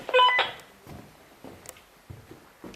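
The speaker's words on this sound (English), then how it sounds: "That's a phone. That's what I'm saying, that's somebody's phone." A mobile phone gives a short, loud burst of electronic beeps at the start, followed by a few faint clicks and knocks in a quiet castle room.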